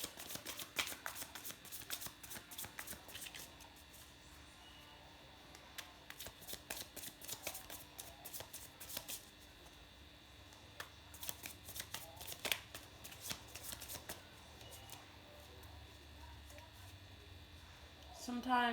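A tarot card deck is shuffled close by in repeated crisp riffling bursts that come and go irregularly, with a faint voice in the background.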